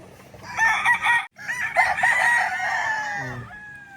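A gamefowl stag crows close by at a game farm in Indang, Cavite, one loud drawn-out cock-a-doodle-doo with a brief break, other fowl faintly audible behind.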